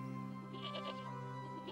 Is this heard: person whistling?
no